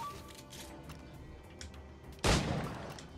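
A single loud gunshot bursts out near the end, fired in the Assassin's Creed 4 video game on PS4, over quieter in-game background ambience and scattered faint clicks.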